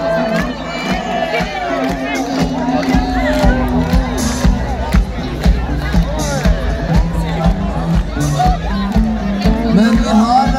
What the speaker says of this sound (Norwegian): Mine damer og herrer, en stor applaus til Mr. Per Vestaby!